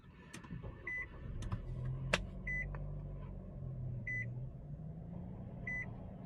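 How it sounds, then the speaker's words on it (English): A 2024 Nissan Sentra SR with a 2-liter engine sounds a short, soft electronic chime, repeated several times at steady intervals, over a low engine idle and some cabin clicks. "A slight beep, and we are underway."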